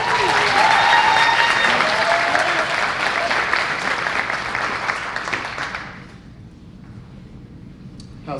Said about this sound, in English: Please give a big round of applause for Chris Tequil.